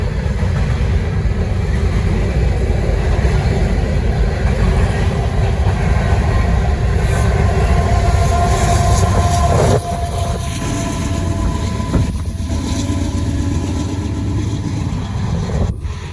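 A short Norfolk Southern freight train, NS 153, rolls past on the Charlotte District with a loud continuous rumble of wagons and wheels, the noise dropping at the end as the last cars pass.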